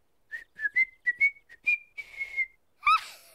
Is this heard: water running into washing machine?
no